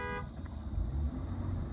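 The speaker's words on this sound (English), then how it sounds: "Got me a honk." A car horn sounds briefly from a passing vehicle on a rural road by a hayfield, a short steady tone at the very start, followed by engine and road rumble.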